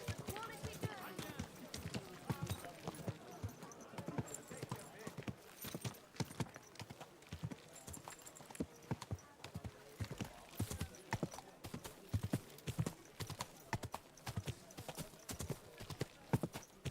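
Horse hooves clip-clopping in the medieval game Kingdom Come Deliverance II, a steady walking rhythm of close, crisp hoof strikes over ambient sound, with a rider's voice talking in between.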